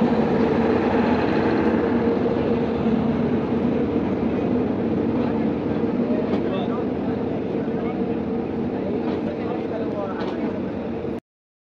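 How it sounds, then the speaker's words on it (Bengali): The Rajdhani Express pulls into a railway platform with a loud, steady rumble of wheels and carriages that runs close and unbroken for over eleven seconds before cutting off abruptly. "ট্রেন ঢুকছে, রাজধানী এক্সপ্রেস।"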